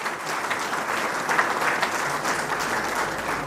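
Audience in an auditorium applauding loudly and steadily throughout, a dense wash of clapping with no talk over it.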